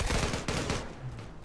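Dense bursts of gunfire from the online shooter Zula, including shotgun blasts, crowd the first half of the moment with loud overlapping shots before thinning into quieter game noise.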